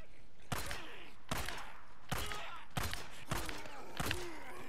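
Six evenly spaced gunshots aimed at a freaker in Days Gone, each a loud close crack with a short echoing tail, rhythmic and steady, with no talk over them.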